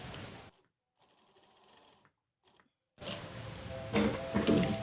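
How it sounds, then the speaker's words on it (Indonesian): Sewing machine stitching the side seam of a toddler's garment, starting with a short burst, then a pause, then running steadily and louder through to the end. "Lanjut kita jahit bagian samping ya."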